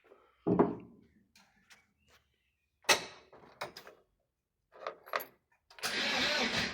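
A 1986 VW T25 diesel camper van, left sitting since 2017, cranks over in short separate bursts, then a longer sustained churn of the starter and engine at the end, close by with quiet gaps between.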